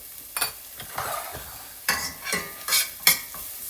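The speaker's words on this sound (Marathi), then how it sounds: "छान हे कारलं आता पूर्ण परतवून घ्यायचं आहे" Bitter gourd seasoned with turmeric stir-fried in a pan, heard as a series of spatula scrapes and stirring strokes over a soft sizzle, close and fairly loud, with no talking.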